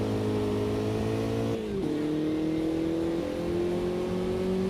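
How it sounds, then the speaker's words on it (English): A low-powered, rear-engined car climbs uphill in a sim racing game, its steady droning engine rising slowly in pitch, with a brief dip partway through like a gear change before the strain builds again. "Uphill in a low-powered rear slung engine car"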